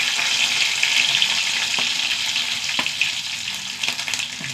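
Dried red chillies and mustard seeds frying in hot coconut oil, a loud continuous bright sizzle with a few faint crackles and pops, steady from start to end with no voice.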